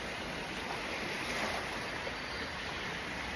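Steady, fairly loud wash of moving water, like wading through a flooded Delhi street in heavy rain, with a constant broadband rush and no voices.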